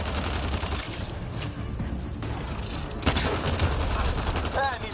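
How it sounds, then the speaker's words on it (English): Intense, close gunfire in the sci-fi shooter Mass Effect Andromeda, a dense rattle of rapid shots with bursts and impacts, sustained throughout with a sharp jump in loudness near the end. "Just keep firing, we can do this!"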